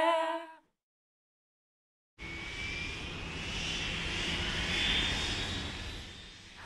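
A steady airplane engine drone for a flight swells in after a short silence, holds a broad roar with a faint rising whine, and stays fairly loud and even for several seconds with no talk.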